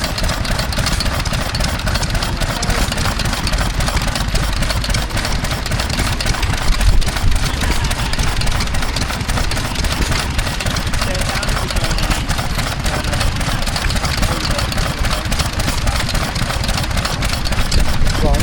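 A heavy old Ruston Hornsby stationary engine runs steadily and loudly at an outdoor steam fair, a continuous rhythmic chugging rumble with a constant idle beat throughout.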